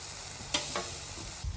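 Chopped onion hitting a hot Blackstone griddle while Philly cheesesteaks cook, a soft steady sizzle broken by a few sharp scraping stirs and a louder burst near the end, with no voices.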